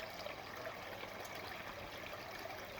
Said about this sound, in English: I've just got a nice quiet gentle trickle